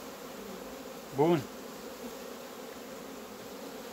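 A honeybee colony keeps up a low, steady buzzing hum throughout, close by, and someone briefly speaks a single word over it midway.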